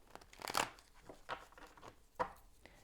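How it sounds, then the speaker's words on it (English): Tarot cards being shuffled by hand, a few soft riffling and flicking bursts with short pauses between, quiet and close, with no voice. "Just a couple more shuffles here."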